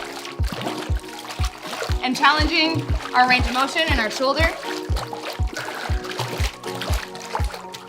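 Water sloshes and splashes rhythmically in a swim spa as feet rebound off the floor during a dumbbell workout, with regular pulsing beats throughout and someone talking over it.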